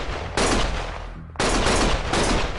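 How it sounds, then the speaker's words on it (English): Gunfire in the video game Lost Judgment erupts in two long, loud bursts of rapid shots separated by a brief lull, harsh and broadband, with no voices over it. "Stop shooting!"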